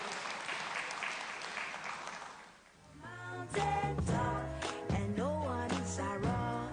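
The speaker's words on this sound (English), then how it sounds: "Can we applaud the co-celebrant?" An audience at a 50th birthday symposium on strategic management gives a short round of applause, steady clapping for about three seconds that fades out, and then background music begins playing.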